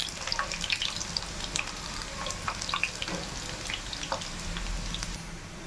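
Soya chunk (meal maker) pakodi frying in hot oil, a steady close sizzle with scattered sharp crackles and pops throughout, no talking.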